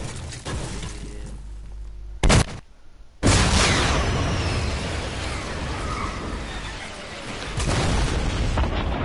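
A guided missile explosion in Fortnite lands as a sudden loud boom after quieter game noise, followed by a sustained roaring rumble that swells again near the end.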